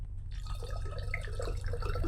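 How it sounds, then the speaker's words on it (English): Blix film-developing chemical is poured through a funnel into a bottle, giving a close, steady trickling and gurgling of liquid for a couple of seconds. "pour our Blix in the Blix funnel, through the Blix funnel into the Blix bottle"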